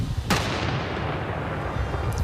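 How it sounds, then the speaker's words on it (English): Controlled detonation set off by a city police tactical and bomb unit on a residential street block, heard from a hillside across the road: a sharp blast followed by a long rumbling roar of debris and wind that fills the clip. "these blasts and explosions are getting louder and bigger, sending dirt and smoke right up into the air"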